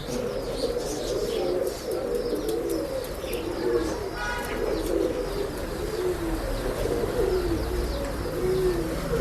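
Male Roshan pigeon cooing in a pigeon sales loft in Bangalore, giving repeated low soft coos amid faint chirps and a brief wing flutter, moderately close.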